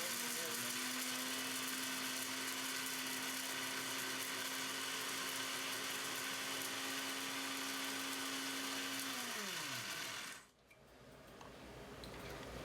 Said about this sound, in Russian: Закрываем и все это смелим в порошок.